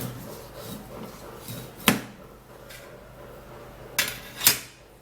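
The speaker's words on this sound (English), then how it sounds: "So now you're going to take a medium-sized lemon and you're going to cut it into two." A knife slices a medium-sized lemon in two on a kitchen board, giving a few sharp, close knocks and clacks against a quiet background, with brief soft handling noises between them.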